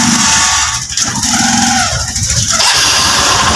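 Honda TMX Supremo motorcycle engine cranking on a newly refitted electric starter motor, a continuous close, loud mechanical rumble with a brief dip near the middle and a steady running tone through to the end.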